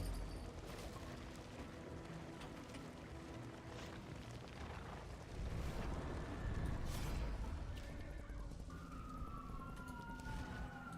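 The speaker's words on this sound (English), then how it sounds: "Sorry for the siren." A police siren wails during play of Darkest Dungeon II, with rising and falling tones over a steady low rumble, fairly loud and continuous, with no talking.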